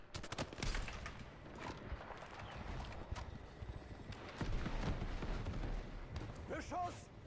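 Gunfire in a Battlefield video game, a dense fusillade of rapid shots and explosions with a constant battle din, while a voice speaks briefly.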